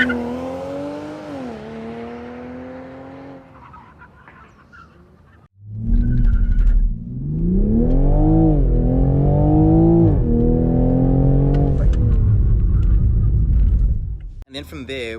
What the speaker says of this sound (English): you can actually drive the car to 100 kilometers and then brake as fast as possible